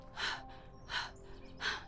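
Three sharp, shallow gasping breaths from a woman jogging with a friend during a panic attack, evenly spaced and close to the microphone, with no talking.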